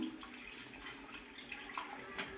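Hot water poured into a pot of cashew mutton curry, a steady soft splashing and trickling pour heard close up over the full stretch, fairly quiet with no talk.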